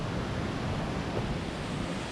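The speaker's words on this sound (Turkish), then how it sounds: "Güzel bir şelale var. Mini şelale." A small waterfall in the Turkish mountains between Horma and Kargı gives a steady, dense rushing wash of water that is fairly loud and continuous, with no voices.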